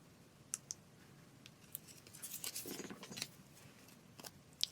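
Scissors snip a sticker down to size at a planner desk, a quiet, close series of sharp blade clicks and paper-cutting rasps, sparse at first and then clustering in the middle.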